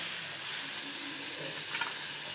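Ingredients for egg biryani sizzling and frying in a pan, a steady close hiss that runs without break, with a brief stir near the end.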